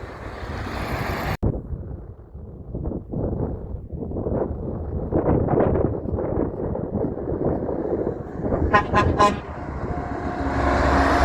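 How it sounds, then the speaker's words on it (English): A small train horn fitted to a truck blasts several short, clear toots near the end, after a stretch of roadside traffic rumble and wind buffeting the microphone. "He had a train horn he was honking."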